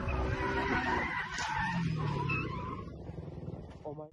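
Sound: Ford Mustang tyres skidding

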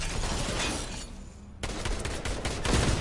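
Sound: gunfire in Fortnite video game

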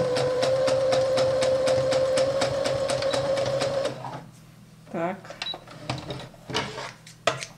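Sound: sewing machine stitching a doll jacket neckline

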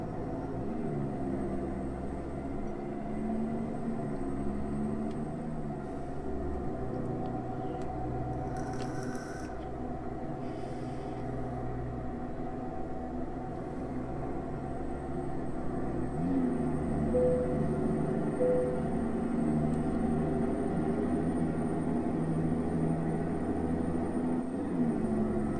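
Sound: Oshkosh truck driving

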